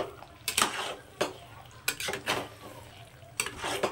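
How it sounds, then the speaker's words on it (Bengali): Fried peanuts and coconut are stirred into a pan, with several spaced scrapes of a spoon against the metal over a low sizzle, nearby and moderately quiet. "তো এটাকে এর সঙ্গে খুব ভালো করে মিশিয়ে দেবো।"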